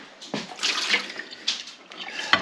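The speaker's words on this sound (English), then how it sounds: "Let's clean out your water bowl." A tap runs water into a pet's water bowl as it is rinsed out, a steady close splashing gush with brief bursts and no talking.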